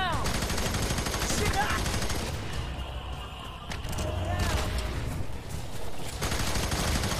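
Dense gunfire from the co-op shooter F.E.A.R. 3 in a suburban level, rattling almost continuously through the clip with a brief lull near the middle, under a wash of game noise.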